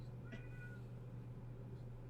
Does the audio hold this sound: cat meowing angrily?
yes